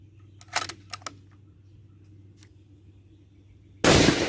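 A single sharp rifle shot rings out at the end of a scope tracking test at the range, loud and sudden after several quieter clicks and small knocks.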